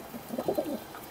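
Pakistani pigeon of pure breed cooing softly in a few low, rolling murmurs close by, a short gentle burst with no talking.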